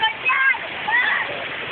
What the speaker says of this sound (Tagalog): Yan po yung tubig.